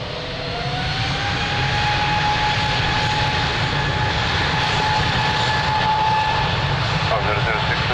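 A jet airliner's engines roar steadily on takeoff from runway 02 at Lisbon Airport, loud and sustained with a rising tonal whine throughout.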